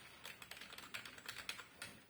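Steady typing on L-Shark K35 and M-Tech keyboards, quick light key clicks in an irregular run at close range, used to enter numbers, with no talking.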